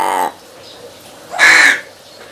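Large crow or raven gives two loud harsh caws close by, a short one at the start and a longer rasping call a second later, with quiet between.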